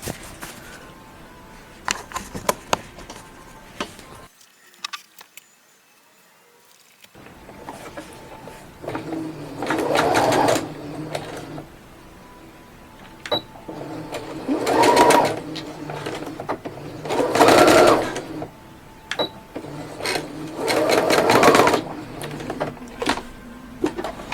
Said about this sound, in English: you just sew these two together in the machine